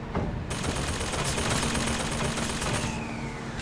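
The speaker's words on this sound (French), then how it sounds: "Ça, c'est une tourelle, ça." Automatic turret gunfire in the video game Bioshock Infinite, a loud sustained burst of rapid shots lasting about two and a half seconds, then cutting off abruptly.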